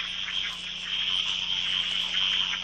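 A tree frog gives a steady, shrill, pulsing trill that carries on without a break, high-pitched and fairly loud against a quiet background.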